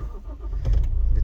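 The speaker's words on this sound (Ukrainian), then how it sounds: "Заводиться з кнопочки" A Toyota RAV4 D4D diesel SUV starts by push button: a brief crank, then the engine catches and settles into a low, throbbing idle close by.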